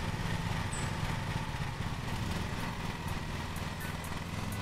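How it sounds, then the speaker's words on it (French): In the video game Lawn Mowing Simulator, a ride-on lawn mower engine drones steadily at a constant pitch, a moderate, unbroken hum with no talking over it. "Je baisse le régime moteur, vous voyez, on dirait que le bruit du tracteur augmente."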